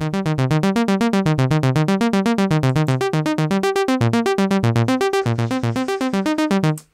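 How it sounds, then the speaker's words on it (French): A synthesizer sequence in electronic music production plays a fast, even stream of short random notes that jump unpredictably in pitch, bright and loud with no pauses. "donc on a déjà des notes qui jouent de manière aléatoire."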